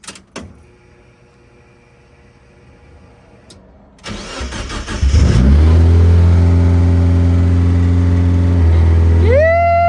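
Mazda NB Miata engine cranking and catching after a Link ECU install, then settling into a loud, steady idle with a brief rev near the end, heard up close.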